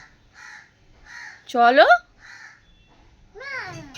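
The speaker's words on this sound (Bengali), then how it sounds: "দেখেছো পাখি ডাকছে?" A crow outside gives a series of short caws with regular gaps. A voice breaks in loudly twice, close by.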